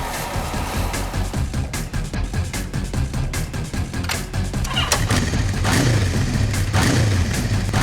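A motorbike engine recording played inside a Hindi TV crime drama scene gives a loud, continuous, rough engine drone throughout, swelling slightly in the second half.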